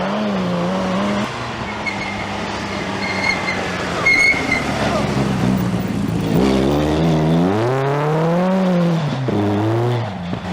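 A Porsche rally car roars along a snowy stage on a national rally, its engine loud and close, rising and falling in pitch through gear changes as it accelerates past.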